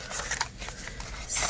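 Paper cash bills being counted by hand while stuffing budget envelopes, quick close crisp flicks and rustles of notes in rapid succession, with no talk.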